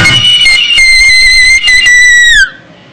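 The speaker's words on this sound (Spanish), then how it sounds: "Es como un silbatito, ¿no?" A small whistle is blown in one long, shrill, steady high note lasting over two seconds before cutting off, loud and close.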